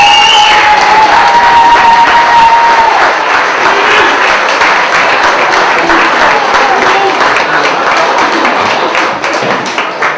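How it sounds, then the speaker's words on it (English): A wedding crowd applauding the bride's grandmother at the grand entrance, loud dense clapping with some cheering that carries steadily throughout, while a voice talks briefly at the start. "If we could have a round of applause for the grandmother of the bride"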